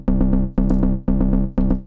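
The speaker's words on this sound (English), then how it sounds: "The bass line that is played by this arpeggiated synthesizer" Arpeggiated sequencer bass line from a synthesizer, four loud, evenly spaced pulsing phrases of rapid repeated notes with a bright attack on each, played alone.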